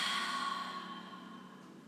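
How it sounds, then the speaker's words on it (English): A long, full yoga exhale through an open mouth, breathy and close, fading gradually over about two seconds with no other sounds. "Draw breath in through the nose, fill up. Open up the mouth, exhale."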